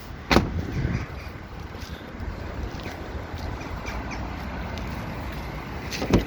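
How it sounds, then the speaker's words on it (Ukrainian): A 2012 Volkswagen Caravelle 4Motion van's electric rear door hums as it moves steadily, framed by a sharp click at the start and another clunk at the end. "Ці двері, як я сказав, електричні."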